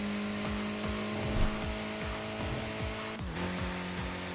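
A Mazda MX-5 in the Tokyo Xtreme Racer video game gives a steady buzzing engine drone with a repeating rhythmic pulse, held at constant revs with a brief shift near the end.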